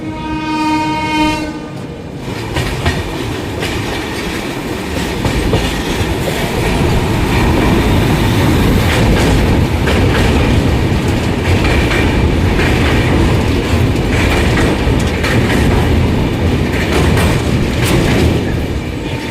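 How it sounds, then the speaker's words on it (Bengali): A train horn sounds in a long stacked blast at the start, then a loud, steady rumble and clatter of wheels builds as the Puri-bound express pulls away from Cuttack Junction. "আমাদের ট্রেনটি এইমাত্র কটক জাংশন থেকে রওনা দিল পুরীর উদ্দেশ্যে।"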